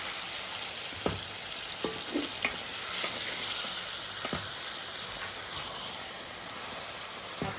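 Whole chicken legs fry in hot oil with a steady broadband sizzle and a few soft clacks as pieces are stirred and turned, close and alone.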